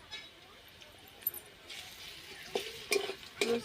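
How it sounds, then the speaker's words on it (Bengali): Garlic paste fries faintly in oil with green chilies and chopped onion, a soft sizzle that grows in the second half alongside a few metallic clinks of stirring, with a voice talking over it. "রসুনটা অল্প করে একটু ভাজা হয়ে গেলে তারপরে আদা"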